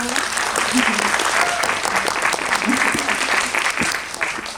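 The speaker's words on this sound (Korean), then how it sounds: "박수" An audience at a film screening Q&A with the director and cast gives a sustained, dense round of applause, with voices faintly under the clapping.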